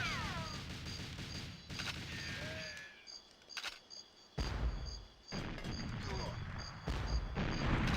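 Gunfire and explosions in GoldenEye 64 on the N64: bursts of shots and booming blasts come in clusters, separated by brief quieter gaps, loud and close with game tones ringing above.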